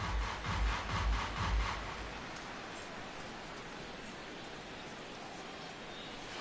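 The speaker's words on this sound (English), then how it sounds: "Rain continues to fall here in the 6th." Steady rain falling on a ballpark in the baseball game MLB 17, a broad even hiss with a few rumbling gusts early on, continuing alone at moderate volume.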